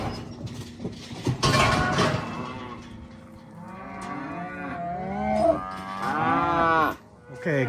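Cattle moo repeatedly as they run through chutes on a desert ranch, several drawn-out lowing calls from nearby animals, with some clanking and creaking of metal in the background.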